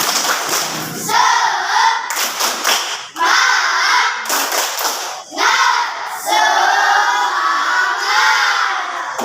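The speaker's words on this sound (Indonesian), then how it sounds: "Satu kali tepuk semangat." Schoolchildren in an Indonesian classroom shout a rhythmic 'tepuk semangat' chant in loud, repeated bursts, with hand claps punctuating the group voices.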